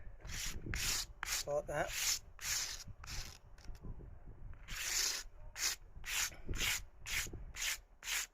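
Repeated rubbing scrapes as silicone is spread across a homemade anti-vibration loudspeaker platform, about a dozen close, evenly spaced strokes with brief pauses between, and a short spoken remark partway through.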